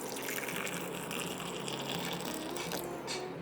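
Hot water pours into a drinking glass for chamomile tea, with a continuous close splashing trickle and clinking, fairly quiet and steady, with no talking.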